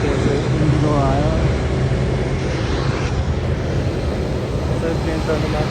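An IndiGo passenger plane at an airport before boarding gives a loud, steady broadband engine roar throughout, with faint voices briefly audible underneath.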